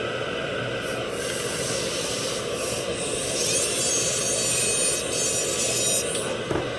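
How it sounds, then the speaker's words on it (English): A dental lab grinder shapes a tooth model, giving a steady, close, hissing whir that runs throughout and rises slightly in pitch midway, with no talk. "So I have to grinding this area to get the lower down like this."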